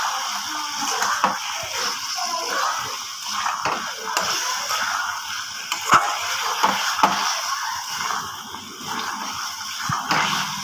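Fried potatoes tipped into a cooked-down masala for a prawn kofta curry, stirred with a spoon as oil sizzles softly, with scattered scraping clicks against the pan throughout.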